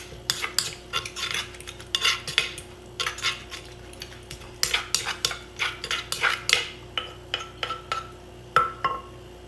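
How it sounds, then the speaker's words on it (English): Papaya salad being stirred and mixed, with utensils scraping and clinking against a bowl in a quick irregular series of close, sharp taps that come in short bursts with brief pauses between them. "Just going to give it a quick stir, mix it up."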